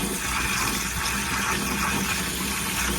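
Water and loose sediment drain steadily from an RV water heater tank into a bucket, making a continuous close rushing, splashing flow that holds an even level throughout with no voices.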